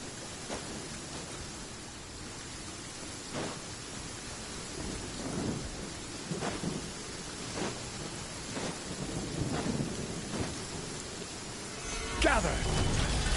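Steady rainfall hisses through a Genshin Impact battle, with muffled thunder rumbles rolling in now and then and a heavier crackling surge near the end.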